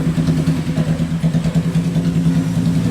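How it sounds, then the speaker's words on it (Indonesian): A Red Rose motorcycle engine fitted with an upgraded ignition idles close by, a smooth, steady low throb with an even pulse and no sputtering throughout. "Ini motor gue jadi halus banget."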